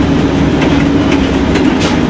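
Inside a passenger train running from Warszawa Zachodnia to Gdynia Główna, a loud steady rumble and drone of the moving carriage carries on throughout, with faint rhythmic clicks from the wheels and no voices.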